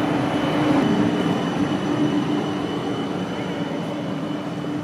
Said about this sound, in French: Ah, le tramway par là.